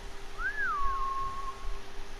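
A single melodic whistle in the samurai game Ghost of Tsushima, calling a horse: a rising then falling swoop that settles into a held tone, clear over a quiet low background hum.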